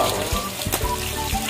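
Chicken deep-frying in boiling oil in a pan over a wood fire gives off a steady, close crackling sizzle that fills the clip, with a few louder pops.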